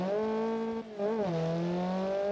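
A Honda Civic hot hatch, a community-built car with some understeer, drives with a steady, droning engine note that dips briefly and then climbs again as the revs rise, loud and close, with no voices.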